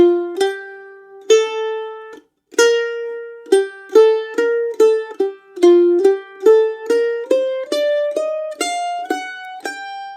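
A solo mandolin plays a melodic phrase of Puccini's Musetta's Waltz from La Boheme in bright, plucked notes at a steady rhythm, clear and close, with no talking.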